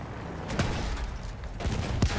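Scattered gunshots crack through a constant rumbling battle din in the World War I shooter Battlefield 1, with a couple of sharper reports near the end.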